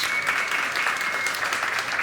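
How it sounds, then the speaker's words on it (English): Audience applause closing a panel discussion on food policy, workers and immigration: a dense, even wash of many hands clapping at once, sustained and moderately loud with no talk over it. "Let's give Jenét a round of applause"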